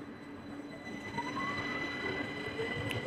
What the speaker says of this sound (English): the train is moving now. The window's open